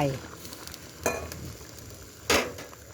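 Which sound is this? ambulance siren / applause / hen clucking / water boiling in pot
water boiling in pot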